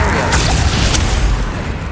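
A Confringo spell explosion in Hogwarts Legacy, a loud, dense boom with rumbling low end that fills the moment and slowly tapers off.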